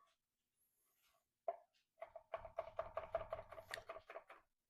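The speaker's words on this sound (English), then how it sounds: "I'm going to cut them into thirds just because I don't need big chunks of garlic in the garlic butter" A knife chops garlic cloves into small pieces for garlic butter. One isolated cut is followed by a quick, steady run of about a dozen close, crisp strikes, with no talking.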